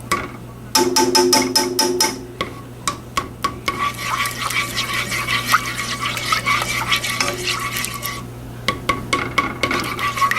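Half a cup of butter browning in a pan while being stirred constantly, a close, steady scraping and rasping of the utensil against the pan with a soft sizzle underneath, continuing for several seconds without talk.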